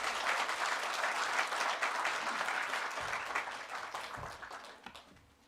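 A church congregation applauds to welcome the pastor at a Sunday service, loud and dense at first, then gradually thinning and fading toward the end.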